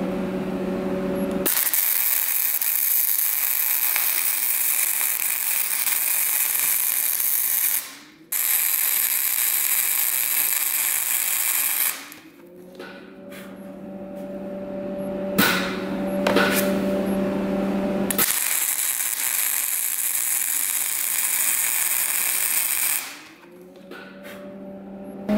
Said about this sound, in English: Let's attempt to weld it.